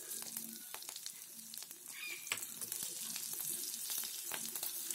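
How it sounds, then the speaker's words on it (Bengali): Panch phoron and green chillies fry in oil left over from frying bata fish, a steady close crackling sizzle with occasional spoon stirs throughout. "একটু ভাজা ভাজা করব যাতে পাঁচফোড়নের গন্ধটা বেরোয়"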